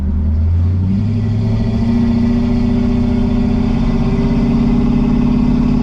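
A Ford Galaxie XL with a C4 automatic drives along in third gear, its engine a steady, loud, close drone with a low hum that rises slightly in pitch as the car pulls, no talk over it.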